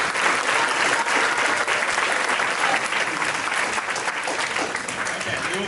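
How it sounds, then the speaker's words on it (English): A crowd at a delegates' candidate forum applauds loudly and continuously, dense clapping filling the hall with some voices mixed in. "we will consider that applause for all 4 candidates"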